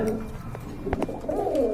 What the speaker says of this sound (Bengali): যে বাইরে ডাকাডাকি করতেছে এটা নর